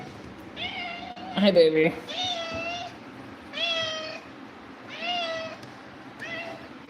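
Several cats in a room of cats meow repeatedly, a high mewing cry roughly every second or so, with one louder cluster of meows near the start, while a person talks over them.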